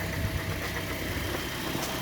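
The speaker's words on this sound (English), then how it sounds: "while the engine is running." A 2009 Toyota Corolla engine idling steadily, a continuous low hum with even mid-range rumble, close by and without talk.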